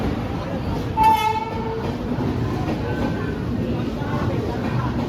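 A train horn sounds briefly over a steady, loud rumble of a moving passenger train, heard from inside the train, with faint voices in the background.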